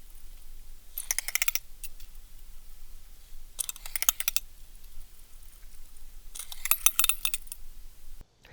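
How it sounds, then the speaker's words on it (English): A large Colorado spinnerbait blade clacks against a jig's weed guard in three short bursts of rapid metallic clicking, fairly close and otherwise quiet between bursts. "that clacking sound that you hear is the blade hitting the weed guard"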